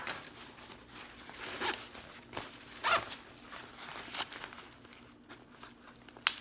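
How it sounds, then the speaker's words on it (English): A Kelty Sira 45 women's hiking backpack is zipped shut, with a series of quick zipper pulls and rasps mixed with fabric rustling and crinkling, close up and moderately quiet. "and then you just zip it back up."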